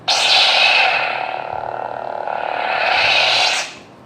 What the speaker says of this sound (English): The original lightsaber sounds like this, the ignition,